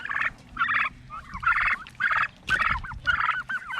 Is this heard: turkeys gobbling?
yes